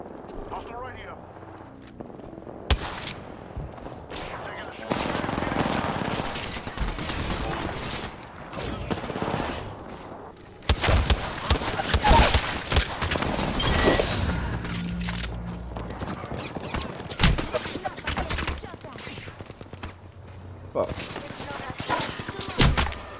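Gunfire bursts repeatedly in a first-person shooter video game, where a Kraber sniper rifle is in play, mixed with mechanical weapon clatter and loud clustered shots across the stretch, with game noise dropping out in brief gaps.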